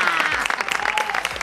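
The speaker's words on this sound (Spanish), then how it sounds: "No hay como el aplauso espontáneo para el artista." Studio audience on a Spanish-language television talk show applauds to welcome guest Atilio Veronelli: a dense, steady wash of many hands clapping close by, continuous throughout.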